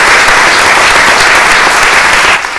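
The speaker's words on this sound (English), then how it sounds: "Give a round of applause to our guests." Applause for guests at a quarterly safety meeting, a loud, dense burst of clapping from the audience that cuts off abruptly near the end.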